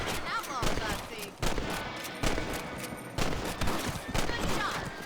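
Rifle shots ring out in the Western video game Red Dead Redemption while hunting rabbits outdoors, several sharp cracks over a busy background of game ambience and voices.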